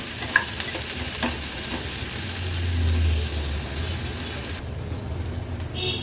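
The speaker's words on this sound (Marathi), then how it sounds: "फोडणीला हा आपण बारीक चिरून घेतलेला कांदा ॲड करूया. गॅसची फ्लेम मीडियमवर ठेवून कांदा आपल्याला शिजवून घ्यायचा आहे." Continuous sizzling of finely chopped onions frying in a hot pan over medium flame, with occasional stirring scrapes, steady and close throughout.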